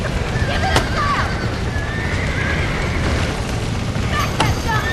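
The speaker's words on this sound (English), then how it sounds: "Now get the horses out!" In the Red Dead Redemption video game, horses whinny in a few drawn-out calls over a dense, rumbling backdrop of hooves and game noise.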